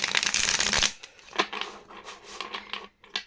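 A deck of tarot cards is riffled in a loud, close burst, followed by softer scattered shuffling and tapping as the cards are squared and handled. No voice is heard.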